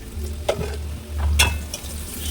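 Onions frying with a pinch of sugar in hot oil make a steady close sizzle, with a few brief stirring scrapes breaking through at intervals and no voices.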